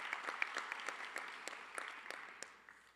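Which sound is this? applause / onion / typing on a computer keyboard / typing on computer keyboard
applause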